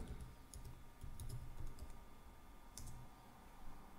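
Quiet bursts of fingers typing on a computer keyboard, with irregular clusters of light key clicks and short pauses between them.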